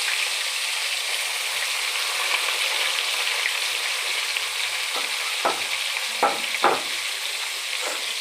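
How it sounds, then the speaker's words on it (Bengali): Potatoes and onions fry together in a pan, giving a steady, loud sizzle throughout with a few sharper crackles and stirring scrapes near the end. "আলু পেঁয়াজ আমি একসাথেই দিয়ে দিয়েছি, দুটোই একসাথে ফ্রাই হয়ে যাবে"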